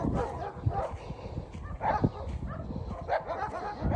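A dog barks and yips in short bursts amid busy outdoor background noise, fairly close, with brief whimpering sounds mixed in.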